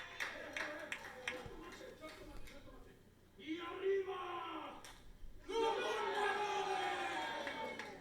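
Wrestling arena crowd at a lucha-style match swells into loud collective cheering and chanting, a big roar rising midway and again near the end, under continuous commentator talk.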